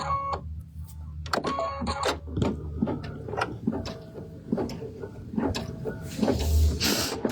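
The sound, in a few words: embroidery machine sewing a placement stitch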